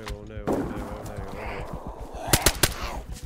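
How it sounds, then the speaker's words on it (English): Gunfire from another player in the video game DayZ: a few sharp, loud shots crack in quick succession near the end, with a voice talking over the earlier part. "He's shooting at me."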